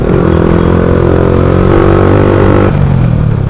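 A Yamaha R15 V4 motorcycle with a loud aftermarket exhaust revs up close, holding a raspy, sustained engine roar before dropping back toward idle near the end.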